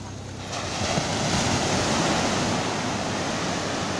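Rough sea after heavy rain crashes onto the beach at Praia do Sununga, Ubatuba, a loud, steady roar of breaking surf mixed with wind buffeting the microphone.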